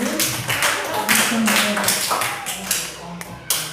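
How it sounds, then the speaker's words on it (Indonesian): Audience at a teachers' module presentation applauding, loud close irregular claps from a modest group, with some voices mixed in. "Mari kita berikan tepuk tangan dulu."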